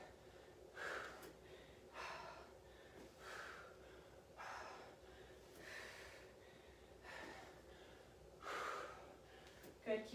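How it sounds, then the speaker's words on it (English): Heavy, rhythmic breaths after a high-intensity interval workout, a series of loud gasping inhales and exhales spaced about a second or two apart, close and fairly faint. "Catching your breath."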